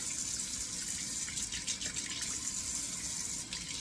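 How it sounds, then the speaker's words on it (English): Cold water runs steadily from a tap in a bathroom during a shave, a continuous close hiss and splash with no talking. "Turning on the cold water."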